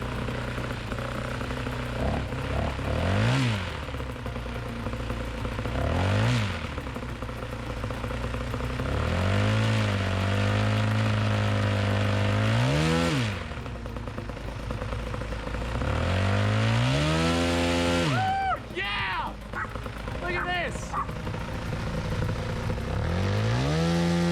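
A paramotor engine with an aftermarket exhaust runs loud and close, its pitch swooping up and down through several throttle blips and revs, with a raspy exhaust note throughout.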